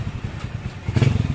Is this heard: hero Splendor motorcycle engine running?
yes